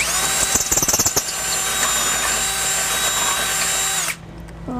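A power drill fitted with its largest bit bores a bolt hole for a trailer hitch on a 1990 Toyota 4Runner, a steady high whine with a brief stuttering start that cuts off abruptly near the end.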